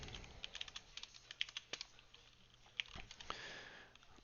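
Typing on a computer keyboard while entering JavaScript array values, heard as faint, quick bursts of close key taps with short pauses and a sniff.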